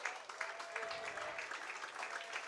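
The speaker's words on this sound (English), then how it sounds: "the claps will start here at Recreation Park" Steady crowd clapping fills the stands at a Saturday night baseball game at Recreation Park, a dense, even patter of many hands with a faint tone drifting through, continuous and moderately distant.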